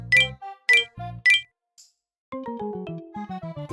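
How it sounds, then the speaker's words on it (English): A phone sounds a rapid series of message notification alerts: three sharp, bright chimes close together, then a quick run of short, tinkling tones stepping up and down, loud and near with no talking. "out of nowhere, my phone buzzed with multiple messages back to back."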